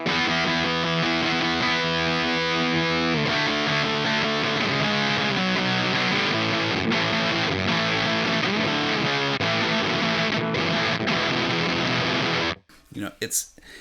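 Heavily overdriven electric guitar through a Shoneswood Mean Prick overdrive pedal, nearly fully clipped, plays loud, thick, sustained chords that stop abruptly near the end.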